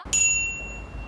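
A small bell struck once, giving a bright, clear ding whose high ringing tone fades slowly over the following second, fairly quiet and alone.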